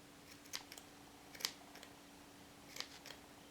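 Scissors snip loose pom pom yarn ends in three faint, crisp cuts spaced apart. The cuts sit over a quiet room hum, with no talking.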